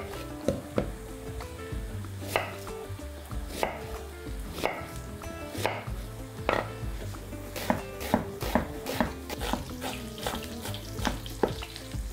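A knife finely chops onion on a board in a kitchen where butter and olive oil are heating, giving quick, fairly regular sharp strikes over a steady low sizzle, close and clear.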